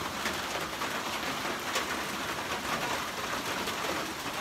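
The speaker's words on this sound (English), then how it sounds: "You can see the raindrops." Steady rain falls on a hiking trail on the way to Limestone Spring Shelter, a dense, continuous patter of drops across the whole stretch with no talk over it.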